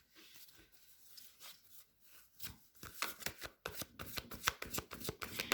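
Tarot cards shuffled and drawn by hand, starting as a soft continuous riffle and building into a rapid series of crisp, loud card slaps and snaps, close up with no talking.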